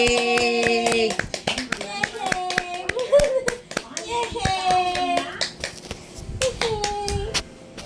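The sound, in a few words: children and people clapping hands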